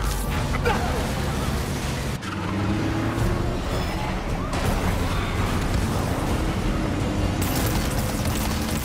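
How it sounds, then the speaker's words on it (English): Trucks and vehicles driving in Marvel's Spider-Man game: continuous loud engine roar and rumbling traffic with skids and crashes, dense and unbroken throughout, no speech. "need to clear the guys in the trucks before I go after Li"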